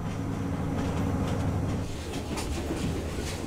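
A train in Myanmar reaching the level of a mountain plateau after climbing, a steady close rumble of rolling wheels and carriage noise with faint rhythmic clacks and no voices.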